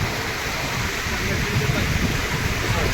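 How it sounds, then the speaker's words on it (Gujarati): Heavy water rushing over Mukteshwar Dam during a big inflow, a loud, steady broadband roar that fills the whole clip with no pause. "પાણી તો ધમ ધોકાર હેડે"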